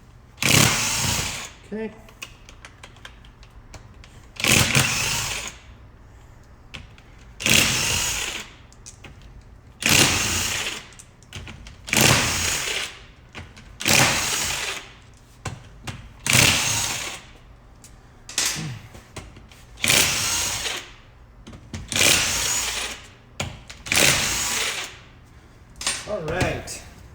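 Impact gun zipping out bolts with a 14mm socket on a Toyota 7.5-inch front differential case, a dozen or so sharp loud bursts in a steady rhythm with short pauses between, a brief spoken word early on.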